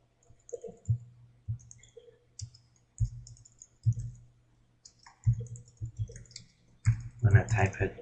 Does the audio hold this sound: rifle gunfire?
no